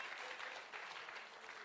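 An audience at a church gathering claps in a dense, continuous burst of applause, faint and somewhat distant, lasting under two seconds.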